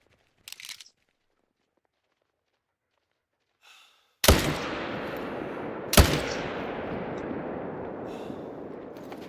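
Two loud, close rifle shots in theHunter: Call of the Wild while hunting mule deer, each a sharp crack followed by a long rolling echo, after near silence and a faint breath.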